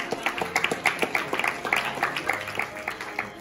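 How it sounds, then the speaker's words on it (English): Guests at an 18th birthday celebration clap for the celebrant's parents in a moderate round of applause, a dense run of sharp hand claps from a small crowd lasting throughout. "can we give them a big round of applause again?"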